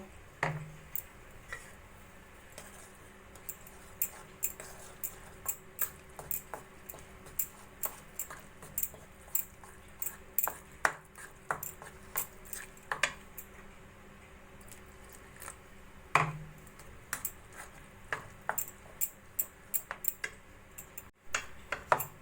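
Beguni batter being mixed with water in a bowl, giving a long run of soft wet clicks and squishy taps in an irregular, fairly steady rhythm, close and quiet, with no talking.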